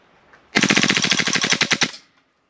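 An HK MP7 A1 gas blowback airsoft gun firing 6mm BBs on full auto lets off one fast burst of about fifteen sharp, evenly spaced cracks lasting just over a second, loud and close, with no talking.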